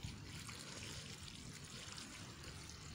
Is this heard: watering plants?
yes